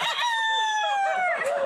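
A rooster crows loudly and close by, one full drawn-out cock-a-doodle-doo call that tails off at the end, with no talking.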